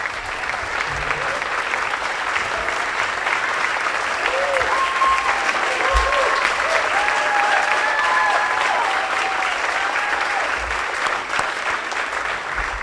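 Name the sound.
audience applause for student athletes at banquet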